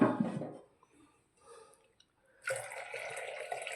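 Water pours into a pressure cooker full of vegetables and beans for Kathiyawadi undhiyu, a soft splashing burst, a quiet pause with faint drips, then a second steadier pour, all fairly faint.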